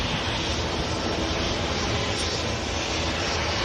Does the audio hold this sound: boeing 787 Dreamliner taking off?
yes